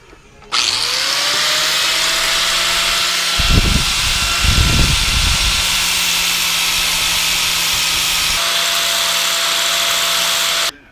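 A power sander evening out the bottoms of metal parts for a 1/14 scale model lowboy trailer, a loud continuous high whine running nearly the whole time, with two brief grinding surges as the workpiece presses in.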